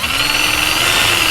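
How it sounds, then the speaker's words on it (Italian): A Parkside PABH 20Li B2 cordless rotary hammer drill spins freely without hammering, giving a loud steady high-pitched motor whine close by. "lui gira come un trapano normale"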